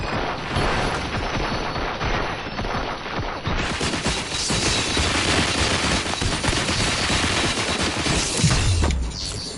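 Sustained heavy gunfire in RoboCop Rogue City, dense overlapping shots and booms in a continuous loud fusillade lasting the whole stretch, ending with a descending whoosh.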